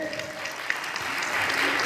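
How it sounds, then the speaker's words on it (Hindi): Audience applause at an award ceremony honoring a district topper being called to the stage, steady clapping that swells toward the end, with a voice faintly audible beneath it. "तालियां रुकनी नहीं चाहिए।"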